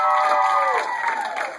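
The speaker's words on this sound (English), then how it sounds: "How about a round of applause for our beautiful people?" Crowd at a high school graduation event cheering and applauding, with bright shouts and whoops over a dense wash of clapping, brief and loud.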